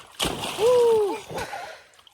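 A naked child leaps feet-first into warm outdoor water on a hot day, making one loud splash followed by sloshing; a voice and a whistling vocal tone run over it.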